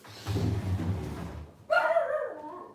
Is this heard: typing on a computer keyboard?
no